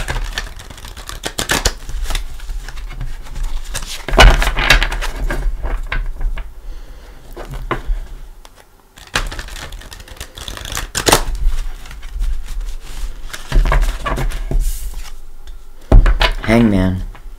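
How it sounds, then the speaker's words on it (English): Tarot cards being shuffled in several quick riffling bursts separated by pauses, close by, with a person talking between the shuffles. "Let's go ahead and bring in the good tarot. I'm going to give it a couple shuffles."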